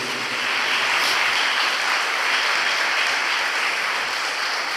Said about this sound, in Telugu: గట్టిగా ఒకసారి చప్పట్లు కొట్టండి.